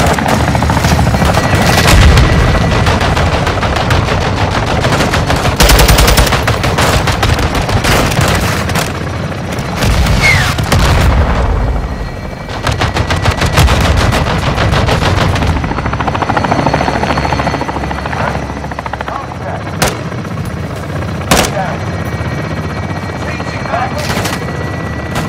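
Helicopter gunfire in Call of Duty Modern Warfare II, with bursts of machine-gun fire and booms over a constant rotor roar, loud and close, under radio chatter.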